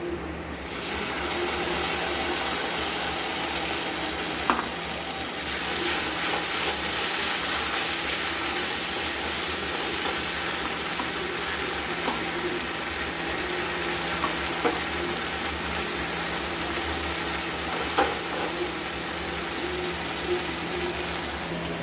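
Ground spice paste sizzling in a pan with fried brown onions, a continuous bright hiss with occasional stirring clicks, close and steady, no talking.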